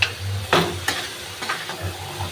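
Mutton cooks with yogurt in a pan until the oil separates: a low sizzle under a few distinct stirring scrapes and clatters, fairly close.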